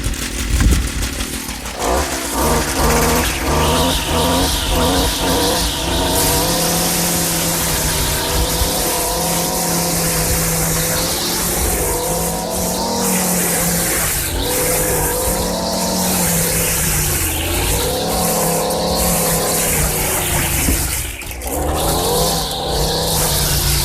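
A Stihl FS 56 RC gas string trimmer with a busted primer bulb runs outdoors cutting weeds on a hillside, its small two-stroke engine buzzing loud and close, revving up and down steadily throughout with no talk.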